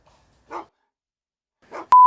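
Two short barks from a dog somewhere off in the distance, well apart, then a loud steady electronic beep cuts in at the end.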